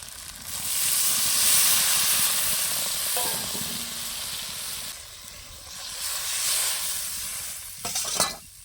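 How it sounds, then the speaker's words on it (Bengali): Water hits a pan of frying potato and silver carp fish curry with green tomato, setting off a loud, steady steam hiss and sizzle that swells, fades and flares again near the end. "এবার আমি জল দিয়ে দেবো"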